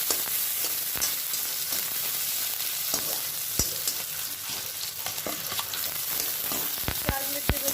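Tivra (grass pea) greens sizzling in hot oil in a pan for a Chhattisgarhi dish, a steady close frying hiss with occasional sharp crackles and pops and the scrape of stirring, no voices.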